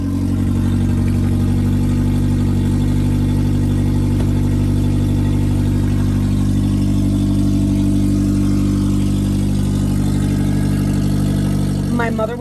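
A car engine running with its catalytic converter stolen, giving a loud, deep, steady exhaust drone that holds throughout at close range, while a person talks over it.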